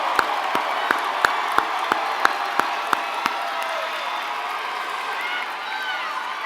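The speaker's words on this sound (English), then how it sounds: "Please join me in giving these graduates a round of applause." A high school graduation crowd applauds and cheers in a large venue, a continuous wash of clapping and voices with a run of evenly spaced sharp claps or thuds cutting through early on.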